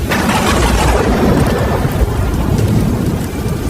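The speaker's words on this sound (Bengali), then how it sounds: "আর শুধু ঝড় বৃষ্টির মধ্যে বজ্রপাতের তীব্র শব্দ শোনা যাচ্ছিল" Heavy rain pours in a thunderstorm on a dark night in an animated horror story, dense and loud throughout with deep rumbling thunder underneath, no talking.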